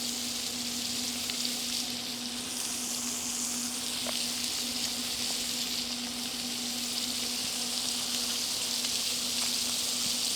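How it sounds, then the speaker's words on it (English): Blackened catfish fillets sizzle steadily in a hot pan at an off-grid camp in the Atchafalaya basin, a continuous close frying hiss with occasional small pops, no talking. "Hit them old fish just frying up in that thing."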